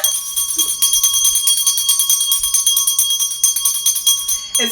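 A bell rings out as the opening cue for a talk-show segment, holding a steady bright ringing tone throughout with repeated pulsing strikes, loud and alone.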